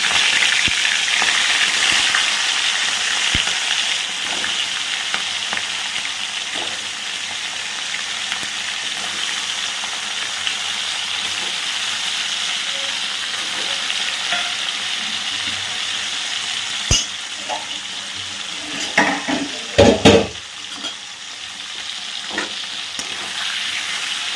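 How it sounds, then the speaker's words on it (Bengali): Prawns sizzling in hot oil over high flame, a steady bright crackle lasting throughout, with a few sharper pops and clatters near the end and no talking. "সেটা আমি একে একে ভেজে নিচ্ছি"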